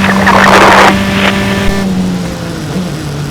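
Number 2 prototype X-Car race car of an SCCA single-seater class at Mid-Ohio passing loudly up close at the finish, a broad engine roar that fades into a steady distant drone.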